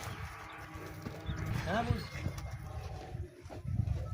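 A mare's hooves clip-clop on a farm in a loose, uneven rhythm at moderate distance, with people talking over the sound throughout.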